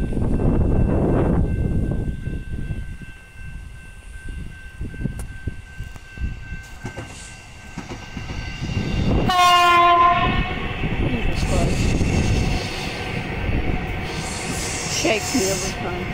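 A metro train passes close and very loud, its rumbling and rattling wheels swelling around a blaring horn blast partway through before the noise fades back toward the rails.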